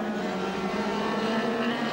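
A 1990 touring car race at Wanneroo, Nissan GT-R among the field: a loud continuous engine roar with a steady whine, close by on the track with no let-up.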